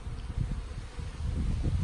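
Honeybees buzz around Shungite beehives in late July, a steady low droning hum of many insects close by, with some wind noise and rustling mixed in.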